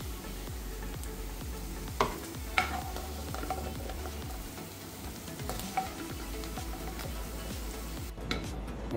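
Paneer cubes fry in ghee in a kadhai toward golden brown, a continuous sizzle broken by a few sharp clinks and scrapes of a spatula against the pan.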